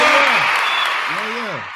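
A canned applause sound effect fired from a podcast soundboard, a dense steady crowd-clapping wash fading slightly toward the end, heard under a voice talking.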